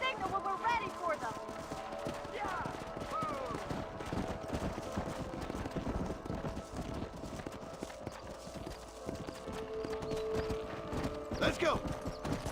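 Horses galloping in the Red Dead Redemption video game, a steady clatter of hooves running throughout amid game sound effects and occasional voices.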